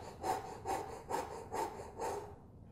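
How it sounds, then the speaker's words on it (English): Five slow, rhythmic panting breaths, like a big dog, form a low-register breathing drill for trombone playing. They are close and evenly spaced at about two per second, with no talk. "For low register notes, a slow pant like a big dog."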